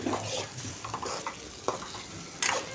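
A spoon or spatula stirs moong dal and drumstick curry in a pan, with soft scraping strokes and light sizzling that go on steadily throughout, close by.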